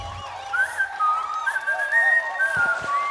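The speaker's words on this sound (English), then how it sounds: "So he whistled for the crowd." A person whistles a wavering, sliding tune for a crowd, clear and moderately loud, alone with a brief low thump at the start and a couple of soft knocks near the end.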